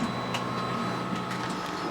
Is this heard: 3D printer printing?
yes